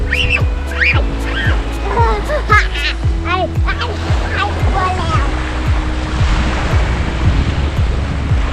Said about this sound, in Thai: เป็นบรรยากาศของหาดสมิลานะครับใน ช่วงเวลา บ่ายสามโมงนะครับ